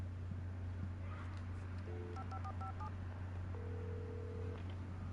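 A telephone keypad is dialed at a gas station in the video game Alan Wake Remastered: a quick run of touch-tone beeps, then a longer steady tone, faint over a constant low hum and background hiss, with no talking.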